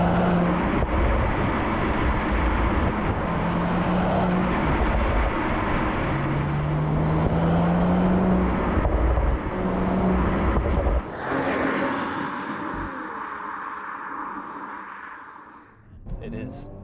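A 2024 Mercedes-AMG CLE 53, a UK car in sport mode, gives a muted, steady engine drone mixed with road and wind noise, easing off and fading near the end.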